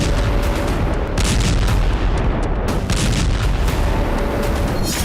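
Heavy blasts and rumbling booms from a Ukrainian attack on Sevastopol fill the air continuously, a dense, loud roar of explosions and gunfire-like bursts with no clear pauses.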